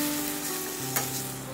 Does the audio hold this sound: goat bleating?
no